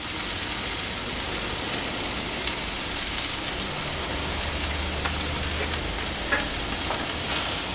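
Glass noodles stir-fried with crispy pork in a pan, a continuous dense sizzle with occasional scrapes and clicks of stirring, close and steady throughout.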